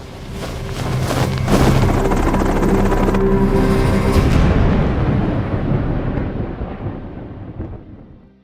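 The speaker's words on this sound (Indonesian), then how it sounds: "Tak lama ada sebuah helikopter" A helicopter flies over New York in an action film, its loud, rapid rotor chop rising to a powerful peak and then fading away as it passes, with no voices.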